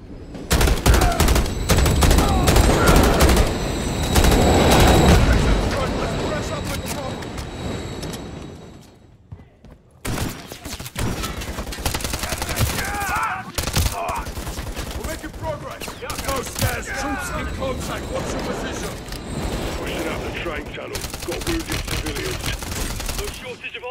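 Dense, continuous gunfire from Call of Duty Modern Warfare 3's campaign on maximum difficulty, with overlapping rifle bursts and rapid automatic fire. It runs loud through the whole stretch and eases briefly partway before starting up again.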